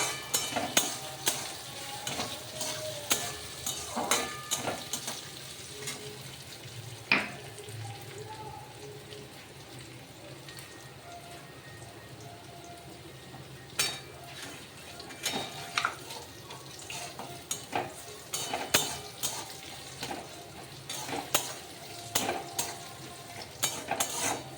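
A spatula scrapes and stirs ginger paste frying in a pan over a high gas flame. The strokes are repeated and irregular, close and fairly sharp, over a steady background sizzle.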